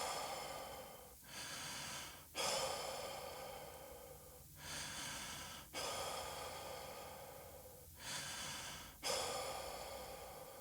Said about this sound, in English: take 6 full, deep, medium speed breaths